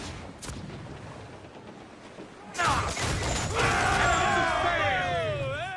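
Ship cannons firing in the video game Assassin's Creed Black Flag: a loud, sustained roar of broadside fire with rumbling booms and creaking timber, the volley swelling midway and continuing steadily.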